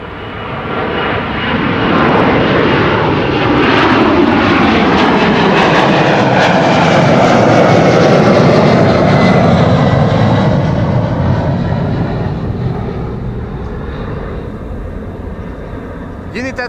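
A 32-year-old United airliner departing Schiphol for Washington, its jet engines building to a loud, sustained roar that peaks mid-pass with a sweeping tone, then eases slightly as it climbs away.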